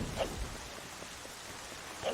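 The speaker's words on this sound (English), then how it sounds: "Alright, it's still raining," Rain pours in the video game Zelda: Wind Waker, a steady dense hiss of falling water with faint low rumbles, constant and unbroken.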